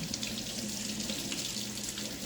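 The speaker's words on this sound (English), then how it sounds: "now I can go over to my sink and rinse it off" Kitchen sink tap running steadily as a peeled potato is rinsed under the stream, a close, even hiss of water with no voices.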